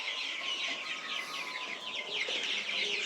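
Colour bird broiler chickens on a farm fill the air with dense, continuous clucking and chirping from many birds close by, without talking.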